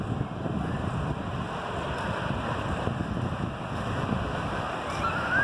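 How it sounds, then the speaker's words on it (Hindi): Sea waves at Gadani Beach in Balochistan roll in as a steady, broad wash of surf mixed with wind rumble on the microphone, loud and continuous, with no talking. "मैं आपको जूम करके दिखाती हूँ जब पानी टकरा रहा है।"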